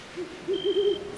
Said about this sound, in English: She heard an owl hoot from the owlery.